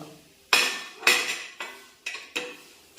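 Horse gram chammanthi powder with tamarind and curry leaves being stirred in a pan, heard as five distinct metallic scrapes and clinks of the spoon against the pan in a steady rhythm, close and moderately quiet.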